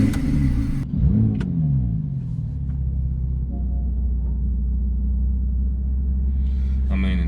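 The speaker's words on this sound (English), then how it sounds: "You instantly hear the engine start, and I mean, it's a twin turbo" A 2019 Porsche 911 Carrera GT twin-turbo engine with sport exhaust cranks and fires, a quick rising rev settling into a loud, deep, steady idle rumble that blips again at the end.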